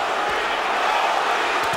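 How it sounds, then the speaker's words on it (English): A boxing arena crowd at the Mayweather vs Mosley fight roars in a steady, dense wash of cheering, loud and continuous throughout. "The crowd is coming alive"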